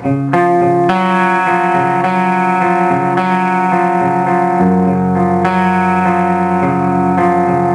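A clean electric guitar on the bridge pickup through a Krank Rev Jr Pro 50 amp, chords and single notes ringing steadily with a slight effect shimmer, played continuously without talk.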